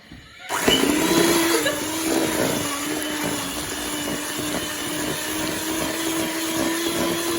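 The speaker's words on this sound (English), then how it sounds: "we're just going to beat this butter for about 10 to 15 minutes until it's light and pale and fluffy" An electric mixer beating butter for a vanilla cake, switching on abruptly and then whirring in a loud, steady drone close by for several seconds with a faint whine, no talking.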